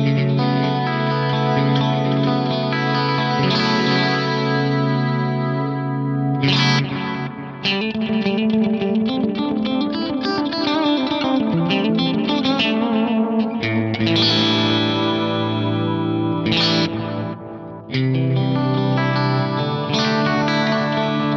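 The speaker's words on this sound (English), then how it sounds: "There's two different tape modes in here, one called moving head and one called variable speed. This is moving head" Electric guitar played through a Digitech Timebender delay pedal in moving head tape mode: sustained distorted chords and notes, each trailed by warbling, chorus-like repeats that smear into one another, loud and continuous with brief breaks between phrases.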